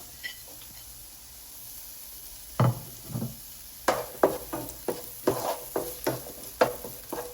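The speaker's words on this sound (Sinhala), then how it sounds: "ලුණු ටිකක් දැන් බැදෙන්න ඕන හොඳට." Salt and ingredients frying in hot oil for garlic prawn rice, a soft sizzle under a series of sharp wooden stirring knocks and scrapes against the pan, close and fairly quiet.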